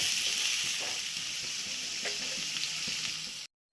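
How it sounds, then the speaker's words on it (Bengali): Chopped onions frying in a pan for mutton curry, a loud continuous close sizzle with occasional stirring scrapes, cutting off abruptly near the end. "পেঁয়াজগুলো আমি একটু ভালো করে ভেজে নিচ্ছি।"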